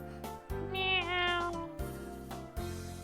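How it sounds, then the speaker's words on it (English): A kitten lets out a few meows, one drawn-out and wavering cry followed by shorter calls, close and clear with a low steady hum underneath. "Meow."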